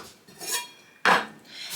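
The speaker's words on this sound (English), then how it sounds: "Here are our pans." Baking pans for a toy oven are handled, giving two bright metallic clatters, a softer scrape first and then a sharp clank, close and with no talk.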